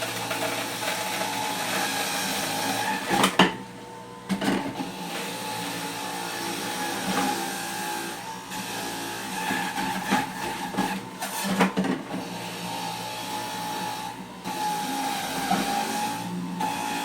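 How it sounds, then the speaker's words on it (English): An electric juicer grinds orange and pineapple with a loud, continuous motor whine, broken by a few brief pauses and sharp surges as fruit is pushed through. "so we're going to start juicing"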